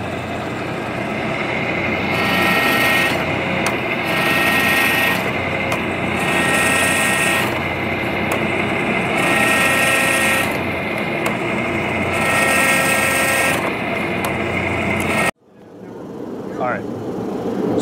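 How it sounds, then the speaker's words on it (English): A hydraulic press drawing out a hot Damascus steel billet at the forge, a steady loud mechanical hum with rhythmic surges as it cycles through repeated squeezes, then cutting off abruptly near the end to a quiet room. "gonna kick on the hydraulic press and go for our second draw."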